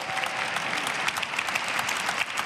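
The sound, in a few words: audience applauding three speakers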